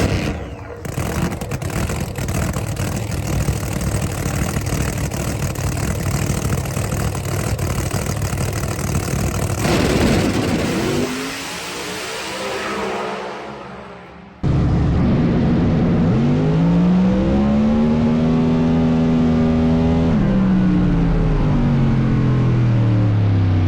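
A powerful race car engine idles with a loud steady rumble, drops off, then roars to life again, revving hard and climbing in pitch.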